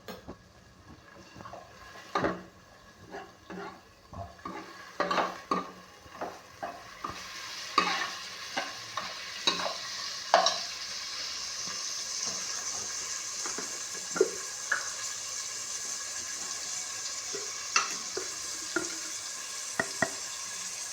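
Chopped onions sautéing with salt in a pan, a soft sizzle that swells as a spoon scrapes and stirs in repeated sharp clinks, the frying steadily building and continuing alone with no talk.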